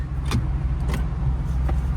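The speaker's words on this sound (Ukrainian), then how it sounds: "Ну я тепер теж їду, завів машину" A car engine idles with a steady low rumble throughout, close and loud, with a few brief higher clicks or rattles over it and no talking.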